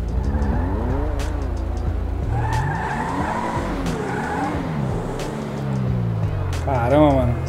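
A BMW in GTA V accelerating hard with engine revs rising and falling, tires squealing and skidding in repeated sweeps, loud and close, with someone talking over it.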